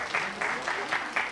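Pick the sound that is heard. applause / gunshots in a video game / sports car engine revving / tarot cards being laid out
applause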